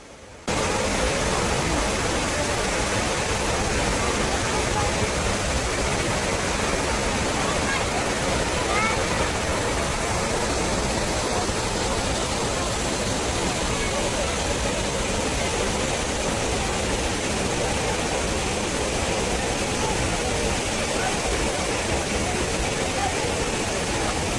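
Athirappilly waterfall in Kerala roars as a steady, dense rush of falling water that fills the whole clip at an even, loud level without pause.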